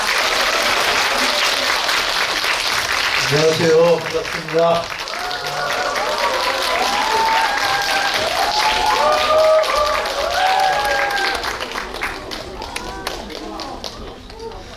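Audience applause at a stage greeting for the Korean film Hansan: Rising Dragon, a dense steady clapping wash lasting throughout, with a host's voice speaking over it near the start and bright cheers rising in the middle.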